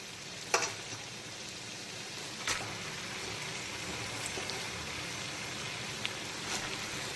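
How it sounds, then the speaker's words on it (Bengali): Washed, chopped spinach tossed into a pan of spices with salt, turmeric and sugar, sizzling and frying quietly in a steady hiss, broken by a few soft clicks and stirring taps. "আর এখন আমি দিয়ে দেব কেটে ধুয়ে পরিষ্কার করে রাখা পালং শাক।"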